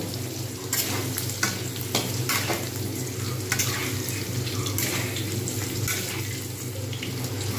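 Whole garam masala and crushed black pepper sizzle in a pan while being stirred, with a constant frying hiss broken by scraping spatula strokes and light clinks, close and without speech.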